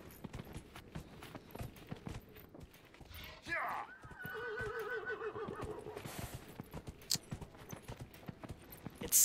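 Horse galloping in Dragon Age: Inquisition, with rapid, close clip-clop hoofbeats throughout and a neigh or whinny midway.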